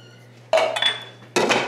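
Water from a drinking glass poured into a pan of chicken manicotti, heard as two close, splashy bursts of pouring, the second shorter, with a faint steady hum underneath.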